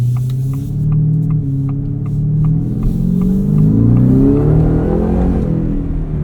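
A 2024 Ford F-150 Raptor R's exhaust drones with a deep, steady rumble while driving, the pitch rising and throbbing as the engine pulls harder, heard close from inside the cab with no talking.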